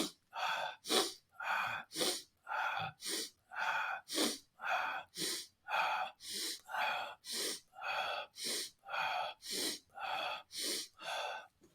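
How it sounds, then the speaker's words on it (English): Fire up-regulating breathing exercise, a rapid, rhythmic series of about twenty forceful breaths in and out, loud and close, with even pacing and no talking. "So a fire up-regulating breath would be something like this."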